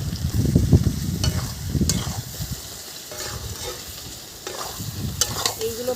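Potatoes with turmeric, salt and chilli powder fry in a pan, giving a steady close sizzle broken by scraping stirring strokes.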